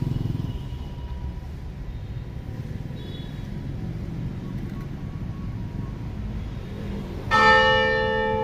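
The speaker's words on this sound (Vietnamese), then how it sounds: "Đúng 12 giờ từ tháp chuông nhà thờ Hòa Đạo chợ quán vang lên" Church tower bells at Hoa Dao church in Cho Quan ring out at noon, a loud bright strike near the end breaking over a low, steady street and traffic rumble; no talking.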